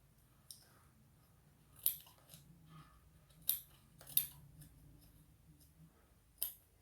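Scissors snip at an anti-theft tag on a newly bought garment, a few sharp, close metallic cuts spaced irregularly over quiet background with faint fumbling between them.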